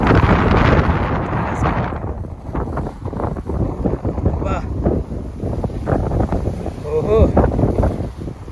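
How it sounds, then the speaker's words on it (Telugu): Strong desert wind in Kuwait whips sand, roaring as loud broadband buffeting against the microphone throughout, with a voice exclaiming briefly over it. "మామూలుగా లేదుగా రేంజ్ గాలి"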